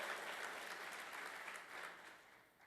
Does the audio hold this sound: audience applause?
yes